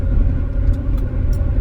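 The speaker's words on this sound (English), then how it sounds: "This truck seems pretty good. It's driving pretty good." A pickup truck rolls along with a steady low engine and road rumble heard from close by, continuous and fairly loud, with no talk.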